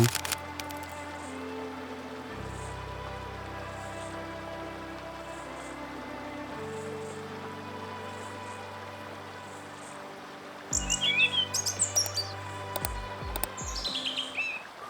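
Small birds chirp and call in bushes on an early spring day, with thin high tweets scattered through the clip, louder bursts near the end, and a low constant rumble underneath.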